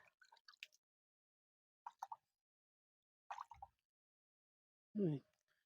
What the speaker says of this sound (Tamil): நட்டதுக்காக கொஞ்சம் தண்ணி தெளிச்சுக்குவோம்